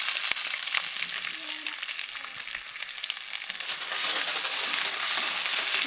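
Onions and green chillies sizzle in hot oil in a pan, a steady crackling hiss with scattered pops and occasional scraping of a spoon, growing slightly louder toward the end.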